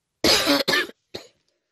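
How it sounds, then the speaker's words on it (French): A woman coughs up close: two quick harsh coughs followed by a third, weaker one after a short pause, with silence around them. "je suis désolée si je tousse"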